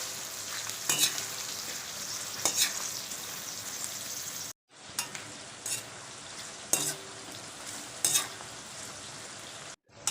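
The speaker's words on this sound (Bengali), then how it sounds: "পেঁয়াজটা ভালো করে ভাজা করতে হবে" About 400–500 grams of chopped onions frying in plenty of oil, a steady loud sizzle with bursts of stirring scrapes, briefly cut to silence midway, no talking.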